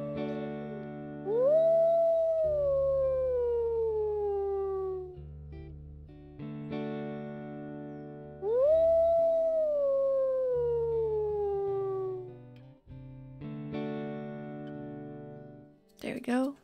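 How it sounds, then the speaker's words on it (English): Two long wolf howls in a wolf video game rise and then slowly slide downward, each lasting several seconds with a gap between them, over a steady droning musical background, followed by a brief sharp cry at the end. "Can probably just get it with a couple of howls."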